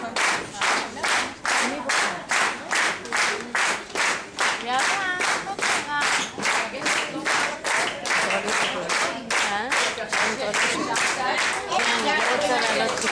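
Rhythmic group clapping at a children's end-of-year party, many hands striking together in a steady unison beat, roughly two claps per second, with voices and chatter running underneath throughout.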